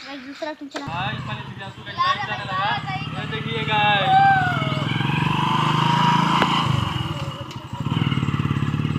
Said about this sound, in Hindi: बाइक चलाने लगा चला लिया